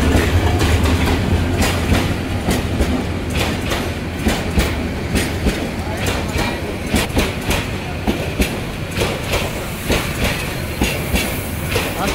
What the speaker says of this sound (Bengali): আন্তনগর জয়ন্তিকা এক্সপ্রেস প্রবেশ করলো মাইজগাঁও রেলওয়ে স্টেশনে।